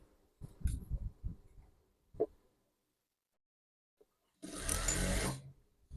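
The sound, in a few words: sewing machine stitching a white garment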